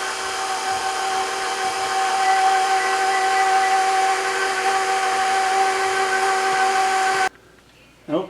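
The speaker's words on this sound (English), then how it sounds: "we will mix this for 5 minutes on low speed" A stand mixer runs on low speed while kneading dinner roll dough, giving a steady, loud mechanical whine and hum that cuts off abruptly near the end.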